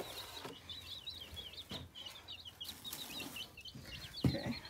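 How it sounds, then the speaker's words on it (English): Amberlink chicks peep in a brooder, a steady stream of high, thin chirps close by, overlapping with occasional soft rustles and bumps. "I think this is an Amberlink. Amberlink chick."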